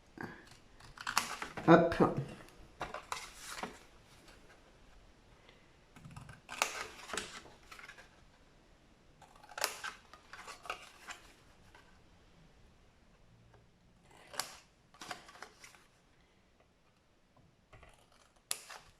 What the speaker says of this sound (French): Là en bas, on va couper au pli. Là, à chaque fois, on va couper.